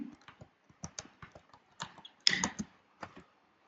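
Bursts of computer keyboard typing as a product listing is entered, irregular clusters of close, crisp key clicks with short pauses between words.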